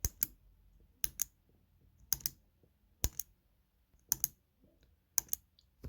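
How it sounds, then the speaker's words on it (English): Six sharp, crisp clicks spaced about a second apart, each a quick double snap from a Logitech G502 mouse's middle button pressed and released, close up in a quiet room. "when you click this button, you should hear this sound"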